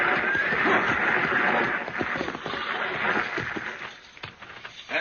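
A stagecoach drawn by a six-horse hitch in an Old West setting draws near, with steady clip-clop of hooves, rattling wheels and a horse's whinny, loud and close throughout before easing slightly toward the end.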